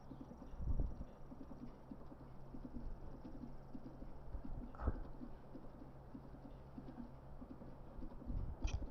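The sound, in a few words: horse hooves clip-clopping in a Zelda video game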